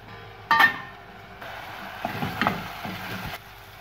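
Potatoes and sliced onions fry in olive oil, a soft sizzle with a few scraping stirs and clatters from the pan, fairly quiet and close.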